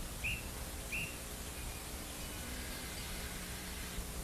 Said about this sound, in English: Oops, that's the guard's whistle.